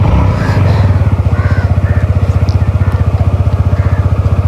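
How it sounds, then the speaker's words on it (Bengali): A motorcycle is ridden nearby in Kolkata, its engine loud and close with a steady, fast pulsing throb throughout and a slight rise in revs near the start. "অ্যান্ড বাইকটা চালাচ্ছে চাস্তো ভাই।"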